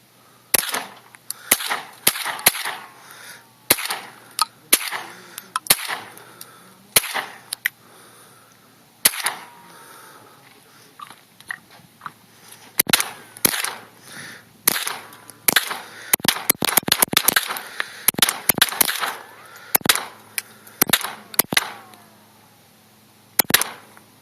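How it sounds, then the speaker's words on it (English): Sharp cracking rifle shots from a Ruger 10/22 fired at a microwave, a long run of single reports at irregular spacing, some in quick clusters, with quiet gaps between and faint background sound. "she's shooting my 1022."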